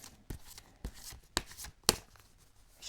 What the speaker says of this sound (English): Shuffle the question carefully into the cards, and when it feels right to stop, you stop.